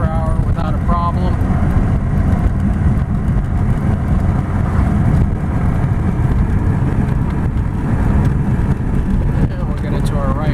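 A 1986 Volvo 240 (244DL) sedan cruising at about 55–60 mph on the highway, with a steady, loud broadband road and engine drone holding constant throughout under talk.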